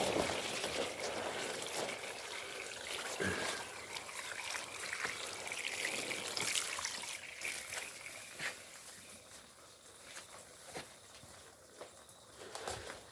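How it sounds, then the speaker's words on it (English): Water runs and trickles faintly outdoors during washing for outdoor cooking, with scattered clinks and splashes and some birdsong in the background. "the good thing about cooking outside, you can just wash everything with running water"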